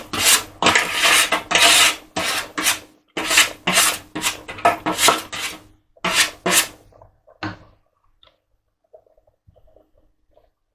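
A spatula scrapes blackberry jam mixture into a pan in a run of rough, rhythmic scraping strokes close by, then trails off into a few faint taps.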